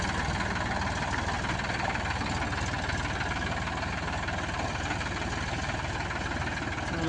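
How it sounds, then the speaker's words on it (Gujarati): A tractor engine runs in a flooded field with a steady, close, chugging rumble and a rhythmic knocking pulse, holding an even level throughout. "tractor tractor tractor"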